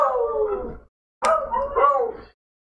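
Household dogs bark and howl in two bursts separated by a short pause, loud and close, with the tones rising and wavering.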